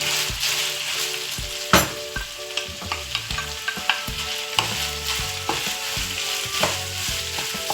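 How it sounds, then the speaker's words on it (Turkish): Meat with garlic and onions stir-fried for sac kavurma, loud close sizzling with a bright hiss and repeated knocks and scrapes of stirring, with a steady hum underneath. "Sarımsaklarımızla kavrulan etimizin içerisine soğanlarımızı da ilave ediyoruz."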